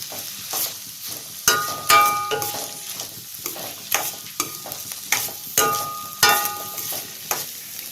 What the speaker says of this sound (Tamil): வெங்காயம் நல்லா வதங்கட்டும், அப்போ தான் கருவாடு தொக்குக்கு நல்லா டேஸ்ட் கிடைக்கும்